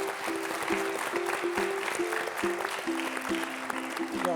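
An audience at an education autonomy forum claps steadily to welcome the Hwacheon county governor, while a simple melody plays along beneath the applause.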